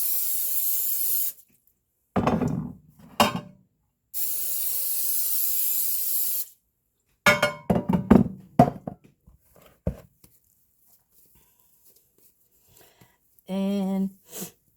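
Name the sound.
cooking spray sprayed onto baking pans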